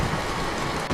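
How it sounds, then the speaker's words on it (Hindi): Heavy rain pours steadily outside in a cartoon sound effect, a dense constant hiss with a low rumble underneath and no voices. "बाहर बारिश की तेज आवाज गूंजती रहती है।"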